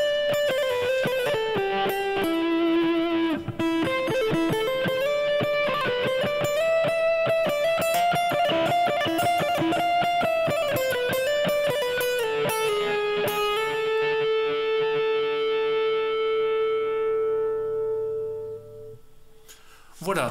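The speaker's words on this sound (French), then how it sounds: "ce qui permet d'avoir le célèbre son de distorsion" An electric guitar runs through a digital distortion effect, playing sustained, harmonically rich notes that slide between pitches before ringing out and fading toward the end, with no talking.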